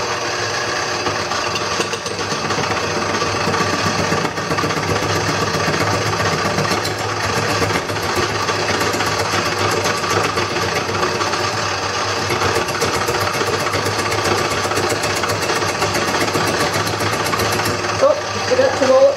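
Wood lathe turning a bowl outdoors in cold weather, a steady droning hum with rough scraping texture throughout, loud and close, with a voice speaking over it at times.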